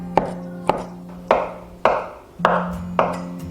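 A kitchen knife dices a block of firm tofu on a cutting board, giving six sharp, evenly spaced chops close by over a low steady hum, with no talking.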